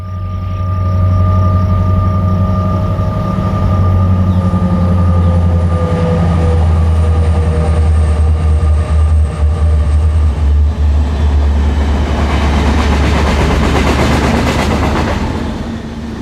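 An empty BNSF coal train rolls toward the listener on the tracks, a steady loud rumble with a low engine drone that swells and grows rougher and noisier over the final seconds as it draws near.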